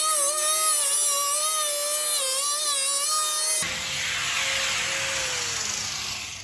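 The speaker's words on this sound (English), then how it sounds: "That then becomes our cutting line for cutting it with the angle grinder." An angle grinder cutting through a plastic IBC tote grow bed, a loud continuous high whine that wavers slightly in pitch and shifts to a rougher, noisier grinding partway through, close up with no talk.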